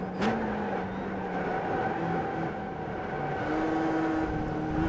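Mazda MX-5 Cup race car in iRacing at Okayama, engine droning steadily through the whole stretch with pitch shifts as it brakes and changes down a gear, close and continuous with no voices.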